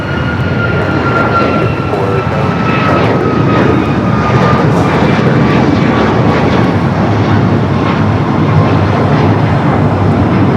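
A United Boeing 737 MAX 9 takes off from runway 25 right at Los Angeles International Airport, its engines producing a loud, sustained roar that stays steady throughout, with faint radio chatter underneath.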